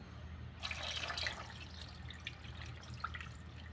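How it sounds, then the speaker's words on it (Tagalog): Water is poured into a cooking pot for fish paksiw made with tulingan and vinegar, a soft steady splashing and trickling close by for a few seconds after a brief quiet start, with no talking. "Tapos, lagay natin yung tubig."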